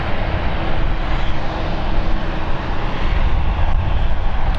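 Luxair airliner departing London City Airport for Luxembourg, its engines giving a loud, steady broadband roar with a faint whine on top, constant throughout with no voices.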